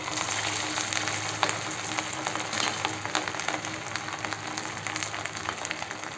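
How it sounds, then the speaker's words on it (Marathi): Medu vada frying in hot oil over medium heat, with a steady, dense sizzle and crackle throughout and small pops scattered over the constant bubbling. "आता तेलामध्ये तळून घेऊ. तेल गरम झालेलं आहे. मीडियम गॅस ठेवायचं आणि मेंदू वडे टाकायचे."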